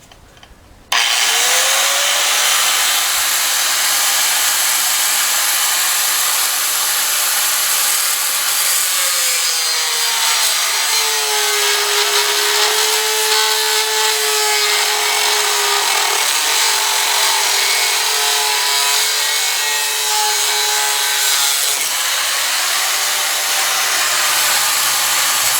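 A loud power tool whirs continuously for about twenty seconds while cutting boat propeller parts, its pitch dipping and rising as it bites into the material, then stops.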